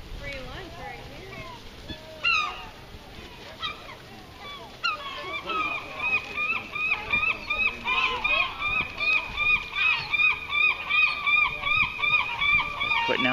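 A flock of gulls calls while gathering over bait: scattered squawks at first, then a dense, loud run of rhythmic, repeated cries from many birds close by.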